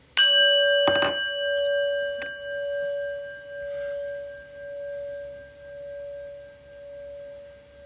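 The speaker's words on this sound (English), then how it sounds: "And the prayer bell." A prayer bell is struck once and rings out alone, a clear sustained tone that slowly decays with a gentle pulsing shimmer, with a brief knock near the strike.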